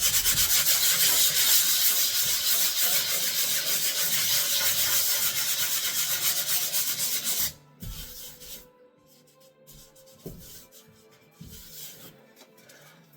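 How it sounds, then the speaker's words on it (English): A 3M sanding sponge rubs drywall compound by hand in circular motions, making a loud, continuous, gritty hiss for about seven seconds before it stops, followed by faint scattered knocks. "I'm gonna quickly sand this one. This one's gonna be the same 3M, and I'm just gonna do the circular motions,"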